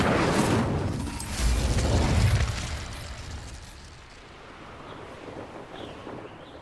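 A fiery blast from the Incendio fire spell in the Hogwarts Legacy video game bursts loudly at the start, then fades into a softer crackling, windy rumble.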